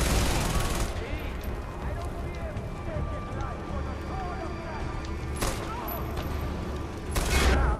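Gunfire in the video game Far Cry 4, Valley of the Yetis, sharp shots at the start and end with steady rapid bursts between, mixed under someone talking and game ambience.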